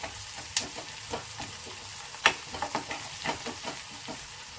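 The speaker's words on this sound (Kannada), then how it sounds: "ಇದು ಸ್ವಲ್ಪ ಫ್ರೈ ಆಗಲಿ." Food fries in a pan after a pinch of turmeric is added, giving a soft, steady sizzle broken by scattered crackles and brief scraping stirs. No one speaks.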